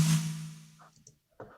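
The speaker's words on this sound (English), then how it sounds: "he has the snare sample that is just that perfect worship tone" A fat snare drum sample in a modern worship song strikes once, loud and close, with a thick body and a long decaying ring, followed by a few faint, scattered fragments.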